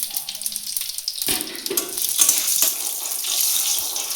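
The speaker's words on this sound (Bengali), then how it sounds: "ওই তেলের মধ্যে আমি এখন ফোড়ন দিব।" Whole cumin, cinnamon pieces and a broken dried chilli hit hot oil, giving a close, bright, hissing sizzle that swells and holds with some crackle.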